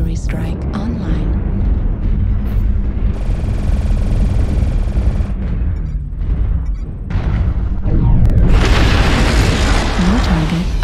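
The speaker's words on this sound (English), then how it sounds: "Artillery strike online." Artillery strike explosions in a mech combat video game: heavy booming blasts and rolling rumble over constant machine and engine din, with a voice speaking throughout.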